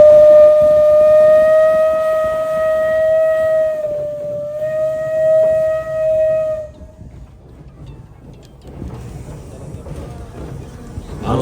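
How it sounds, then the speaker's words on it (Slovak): A long, loud steam-style whistle from a vintage green locomotive celebrating ninety years of service, held steady for several seconds with a brief dip, then cutting off into crowd murmur and ambient noise. "Vítaj zelený Anton, aj nám zapískaj"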